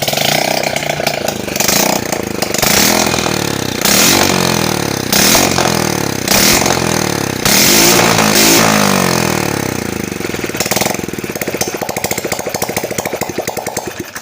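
A motorcycle engine with its exhaust removed starts and runs loud and close, a harsh rapid rattling idle with repeated revs, after a repair for white exhaust smoke.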